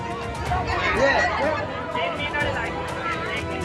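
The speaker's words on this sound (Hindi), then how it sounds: "टीका लगवाने के लिए लोगों की भीड़" A crowd queued in the rain outside a Mumbai vaccination centre keeps up a continuous hubbub of overlapping nearby voices, with a few louder exclamations rising above the babble.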